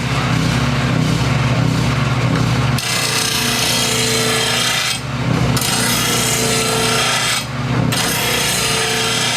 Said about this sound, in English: We're going to sharpen some lawnmower blades together